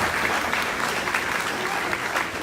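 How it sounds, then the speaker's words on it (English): An audience at a student awards ceremony breaks into steady, dense applause, many hands clapping together in a continuous wash of sound that holds even throughout. "then we'll give you a big round of applause"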